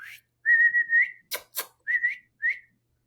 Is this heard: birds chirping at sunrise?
no